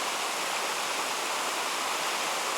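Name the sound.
Holly Creek mountain stream flowing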